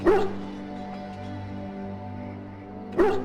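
A dog in the game Dragon Age Origins gives a sharp whimpering yelp at the start and another at the end, with a quiet low hum of game ambience in between and no talking.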